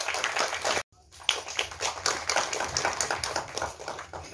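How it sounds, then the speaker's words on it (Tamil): Audience applause at a Tamil film audio launch event, a dense patter of many hands clapping with a brief gap near the start before the clapping resumes and continues steadily. "சாப்பிட்டீங்களான்னு கேட்டதுக்கே சத்தமாக ஒரு கைத்தட்டல் கொடுத்துருக்கோம்"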